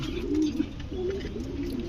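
Deep, throaty cooing from a pigeon offered for sale as a breeding bird, two or three rounded phrases in quick succession, close and clear with no talk over them.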